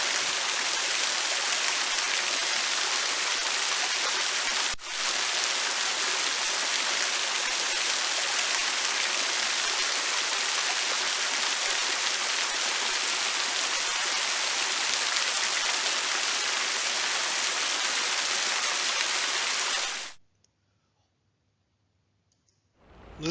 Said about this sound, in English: Let's listen to the sound of a waterfall.